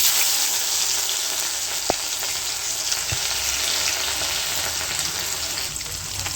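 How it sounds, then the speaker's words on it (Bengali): Onions sizzle steadily in hot oil with dried red chillies and bay leaf while ghugni is being made, a continuous close frying hiss with a couple of small sharp ticks and no talking. "এগুলো একটু ভাজা হলে আমি এবার পেঁয়াজগুলো দিয়ে দিই।"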